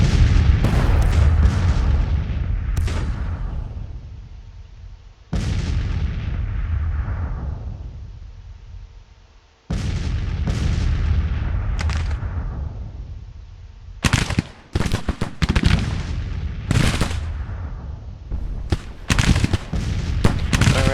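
Heavy artillery booms and rifle volleys from a Civil War battle in the strategy game Grand Tactician: The Civil War, loud blasts that decay slowly, then clusters of sharp overlapping shots and crackling fusillades.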